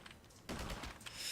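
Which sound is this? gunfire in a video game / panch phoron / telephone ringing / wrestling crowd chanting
gunfire in a video game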